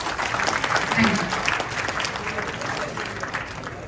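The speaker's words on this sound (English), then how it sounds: "Really give a great clap to him" Audience in a university expert lecture hall giving a round of clapping for a student, a dense, fairly close burst that swells early and gradually thins out.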